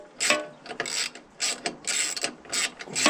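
A ratchet loosens the 8 mm throttle bolt on a Briggs and Stratton 3.5 HP lawnmower engine, giving several quick clicking bursts of pawl chatter in an uneven rhythm, close and fairly loud, with no talking.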